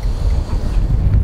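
Wind buffets a boat on open water during a pike fishing competition in the north, a loud, steady low rumble of gusts pressing against the microphone, with no voices.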